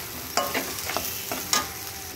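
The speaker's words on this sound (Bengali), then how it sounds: "সেই চালের পেস্টটা আমি এর মধ্যে দিয়ে দিলাম, দিয়ে আবার একটু ভালো করে এর সঙ্গে কষিয়ে নেব" Spice paste mixed with rice paste being stir-fried in a pan for a fish-head recipe, with several distinct scraping stirs and a soft sizzle running underneath, close and fairly quiet.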